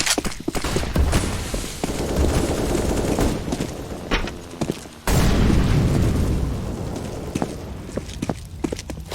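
Loud, dense gunfire and booming blasts in a Counter-Strike: Global Offensive match, including a flashbang grenade, with a sudden heavy burst midway and scattered footsteps around it.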